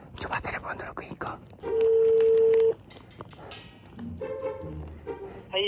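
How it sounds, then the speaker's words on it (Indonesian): A telephone dialing tone plays as a call is placed, one long steady beep followed later by shorter tones, with whispering and soft taps around it. "sekarang coba telepon dulu ke Iko."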